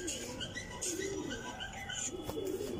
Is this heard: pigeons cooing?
yes